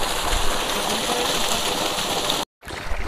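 Water gushing at full pressure from a 3 HP motor pipeline, a steady, loud rushing splash that cuts out briefly near the end and then returns.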